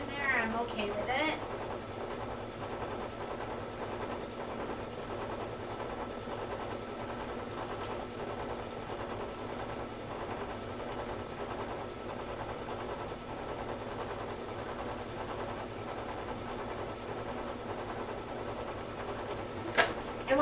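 A sewing machine stitches a quilt block, a fast, even mechanical whir running steadily throughout at low level, close by, under a voice talking.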